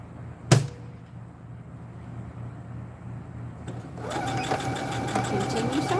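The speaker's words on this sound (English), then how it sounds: "And continue sewing." A sewing machine stitching a bandana bag starts up after a sharp knock and a quiet pause, then runs in a steady, close buzzing whir to the end.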